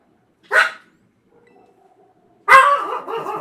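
Dogs barking, one sharp short bark followed by a pause with faint background tones, then a louder bark trailing into whining yips, fairly close and with no talk.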